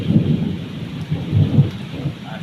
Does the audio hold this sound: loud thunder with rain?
yes